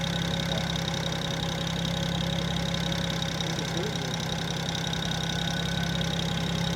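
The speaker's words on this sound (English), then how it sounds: "That thing is freaking loud, dude. That turbo is loud." A turbocharged 1973 Oldsmobile 455 engine runs loudly and steadily up close, a constant deep rumble with a droning whine on top and no break throughout.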